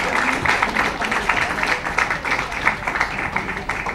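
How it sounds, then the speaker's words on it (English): An audience at a book launch for Zuni Chopra's The House That Spoke applauds with a steady wash of many hands clapping that holds evenly for several seconds. "Please, again, the usual applause for our talented Zuni Chopra over here."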